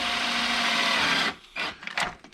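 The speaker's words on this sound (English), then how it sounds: "We're going to drill a hole here," Power drill boring a quarter-inch hole in a Samsung French door refrigerator door, a loud steady whine for over a second that stops abruptly, followed by a few short handling knocks.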